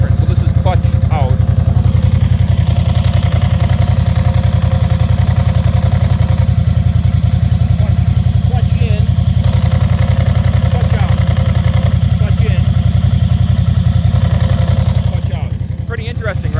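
A 2008 Ducati S2R1000 motorcycle idles with the clutch out, a steady loud near engine throb with a dry-clutch rattle running through the whole stretch, dipping slightly near the end.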